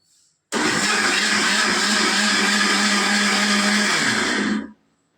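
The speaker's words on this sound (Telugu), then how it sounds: "అలా ఇప్పుడు మిక్సీ పడుతుంది" A kitchen mixer grinder runs steadily for about four seconds churning cream into butter, a loud continuous whirring motor that starts abruptly and winds down at the end, with no talking.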